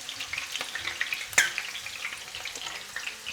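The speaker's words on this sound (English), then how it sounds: "the reason why we split the chilies, so that they don't burst open when you fry them" Split chilies frying gently in hot oil, a continuous soft sizzle with faint crackles and one sharper pop, steady and close.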